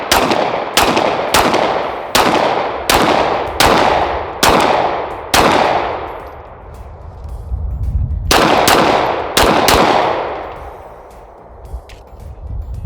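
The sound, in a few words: gunfire from Lone Wolf Arms Timberwolf 19X pistol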